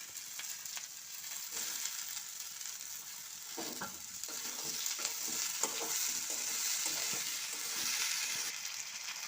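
Potatoes, onion and green chili frying in oil in a pan for a small fish and thankuni leaf dish: continuous close sizzling with occasional stirring scrapes, no talk.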